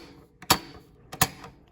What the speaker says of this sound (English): This is my favorite kind of switch on oscillating fans, piano keys.